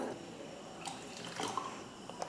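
Water trickles and splashes into a cooking pot at close range for wheat-flour halwa, a soft steady pour with a few brighter drips, no voices.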